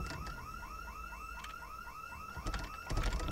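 A house alarm blares in the zombie survival game Project Zomboid, a rapidly repeating rising electronic whoop heard fairly faint and steady, with a few sharp clicks and thumps near the end.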